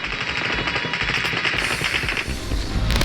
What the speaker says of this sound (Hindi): काबुल एयरपोर्ट पर ताबड़तोड़ फायरिंग, रुक रुक कर चल रही हैं गोलियां